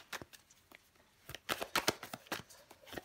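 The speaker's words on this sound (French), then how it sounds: "Je vais recouvrir des cartes pour vous, les vierges." Tarot cards are handled and laid out on a table, producing soft, close flicks and slaps in irregular bursts, sparse at first and then busier.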